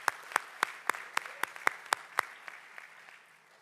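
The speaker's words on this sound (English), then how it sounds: "Let's give a round of applause for Neil" Audience applause for Neil at a synagogue president's annual report, sounding as a sparse, rhythmic run of distinct claps, evenly spaced and close, fading into softer scattered clapping at the end.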